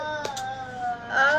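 A young child whines and cries faintly in the background, with a steady hum underneath and a few brief higher squeals.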